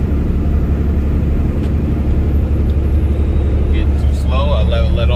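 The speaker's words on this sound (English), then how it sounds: "I'm controlling my descent largely with the engine brake." A Peterbilt 579 flatbed truck descends a mountain on its engine brake, giving a steady, loud low-pitched rumbling drone that holds without a break from start to finish.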